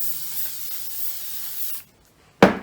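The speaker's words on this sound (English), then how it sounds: "Give it one last spray," An aerosol can sprays with a steady hiss for nearly two seconds, goes quiet, then gives a short, louder burst.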